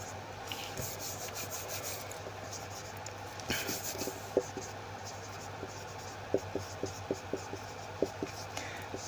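Hand writing on a surface during a history lesson on the Indus Valley civilization, a soft continuous scratching and rubbing with light taps from the pen, close and quiet over a steady low hum.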